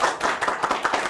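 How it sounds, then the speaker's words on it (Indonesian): Audience applause at an Indonesian press launch event for a Sharp Healsio superheated steam oven, a brief burst of dense clapping from a crowd, fairly loud and steady throughout. "Tepuk tangan dong sekali lagi."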